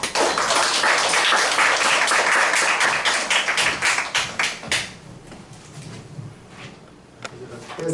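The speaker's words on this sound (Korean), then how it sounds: "우리 한번 나오실 때 따뜻한 박수로 우리 맞이할까요?" An audience at a Korean church revival meeting claps warmly to welcome a pastor to the stage. Loud applause fades after about five seconds into quieter room noise with a few scattered claps.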